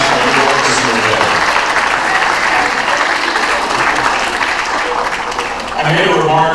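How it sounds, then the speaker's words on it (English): An audience at a Filipino women's pageant opening ceremony in San Antonio applauds veterans: loud, sustained clapping with crowd noise throughout, dipping briefly near the end before swelling again. "Let's give them a round of applause for each and every one of us here today"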